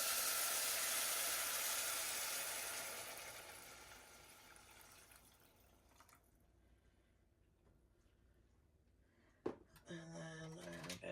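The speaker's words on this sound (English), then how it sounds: "the next step here is just to add in our broth and our tomatoes" Broth and tomatoes poured into a hot pan of rice for vegan Tex-Mex rice, making a loud sizzling hiss that steadily fades into a quieter simmer, followed by a sharp clank and some metallic clatter near the end.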